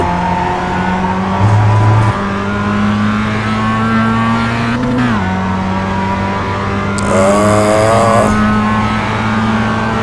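Race car engines in the iRacing sim racing game on a road course drone steadily throughout, one engine note dipping and climbing as it shifts, with a brief higher whine joining near the end.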